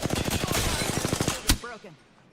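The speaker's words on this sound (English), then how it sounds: "They're shooting at me." Rapid burst of automatic gunfire from enemies in a battle royale shooter, a dense rattle of evenly spaced shots for about a second and a half, ending in one louder blast followed by a short fading tail.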